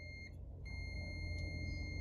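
A multimeter's continuity beeper sounds while its probes test an alternator rotor winding: a steady, high, piercing electronic tone that holds for about two seconds over a low background hum. It grows louder partway through.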